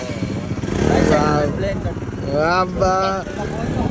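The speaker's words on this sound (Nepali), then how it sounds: "यहाँ त बाइक तार्न लगाइरह विशाल ढाकेहरूले" A motorcycle engine revs and strains nearby while people talk over it.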